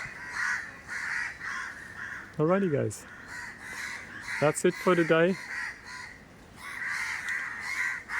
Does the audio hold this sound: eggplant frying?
no